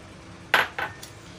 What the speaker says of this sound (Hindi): अब इसको हम बर्तन में निकाल लेंगे।